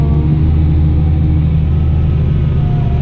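Fendt 1050 tractor engine during subsoiling, a loud, steady low rumbling drone heard from inside the cab, unchanging throughout with no talking.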